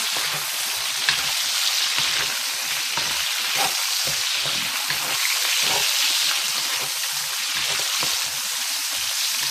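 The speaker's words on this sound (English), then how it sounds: "I'm going to saute them around first because my beef is going to go really quickly." Onions with green, red and yellow peppers sizzle steadily in a hot pan for tacos, with crackling spatters and occasional stirring scrapes, close and continuous with no talking.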